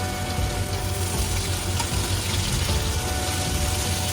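Onions sizzling in a pan for chicken masala, a steady dense frying hiss running throughout with no talk.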